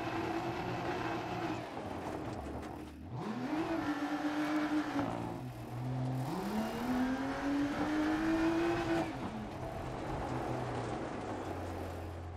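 A rally car drives a stage in Poland, its engine revving hard through gear changes with rising and falling pitch sweeps, loud and close throughout, with no talk.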